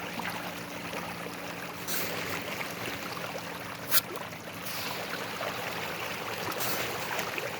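Fish splash and churn at the water surface while feeding aggressively, a steady wash of small splashes with a few sharper bursts, at moderate volume and without speech.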